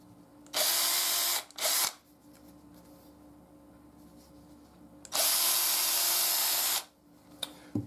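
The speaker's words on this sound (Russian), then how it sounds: "давайте его сразу просверлим" A power drill whirs loudly in three bursts, a short pair and then a longer run, with quiet gaps between them, drilling a hole while making a knife sheath.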